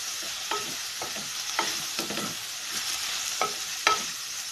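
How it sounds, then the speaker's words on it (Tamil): Fresh mint and coriander leaves sautéed in a pan for beetroot biryani give a steady oil sizzle, broken by several scraping stirs of a spatula at close range, with no voices. "புதினா கொத்தமல்லி போட்டு இந்த மாதிரி வதக்கி விட்டிங்கன்னா நல்லா வாசனையாக இருக்கும்"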